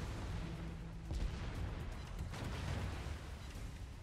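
Naval gunfire striking a ship in the game World of Warships, a rumbling low boom and dull impact thuds over a continuous heavy engine-like drone, moderately faint, with no talking.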